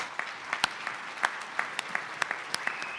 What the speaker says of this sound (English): Please give this amazing panel a round of applause.